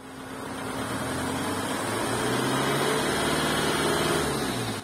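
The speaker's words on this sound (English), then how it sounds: "do 3 to 4 minutes of high revs, cycling through 3 levels of revolutions per minute" A diesel engine held at high revs during a decarbonizing run, giving a steady, loud mechanical drone that swells slightly and holds constant for several seconds without talk.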